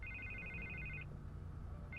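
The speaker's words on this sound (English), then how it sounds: "I can't get the phone to stop ringing." A telephone rings in Batman: The Telltale Series, giving a steady electronic trill that stops and then starts again. It is quiet and alone over a low background hum.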